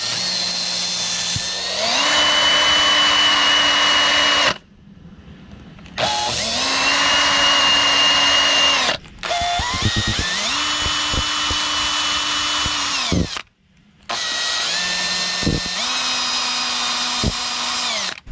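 A power drill spins rolled sandpaper inside boat trailer light sockets to clean out corrosion, a loud close whine that revs up and holds steady in four long bursts separated by short pauses.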